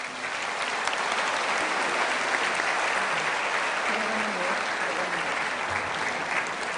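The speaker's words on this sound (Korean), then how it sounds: "자, 크게 박수 쳤어요." Church congregation at a Christmas praise worship service breaking into sustained, dense applause that stays loud and even throughout, with a few faint voices underneath.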